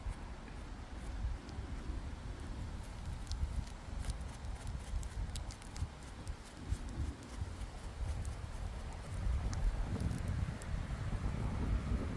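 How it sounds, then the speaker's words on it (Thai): Dry wind blowing through a forest, a steady rustling rush with soft gusts and scattered crackles of leaves and twigs, growing somewhat stronger toward the end, with no talk. "พี่น้องจะได้ยินเสียงลมวะ"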